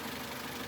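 A 2013 Toyota Avanza engine idles steadily, a quiet, even hum with a faint knocking texture and no talk over it.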